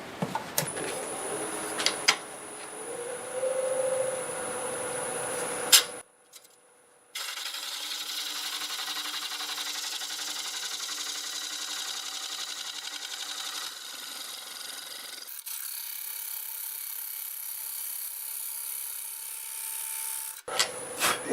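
Wooden bowl turned from a board spinning on a lathe, with a gouge cutting and scraping the wood in steady rasping passes, broken by short pauses and a change in cut partway through, close and fairly loud.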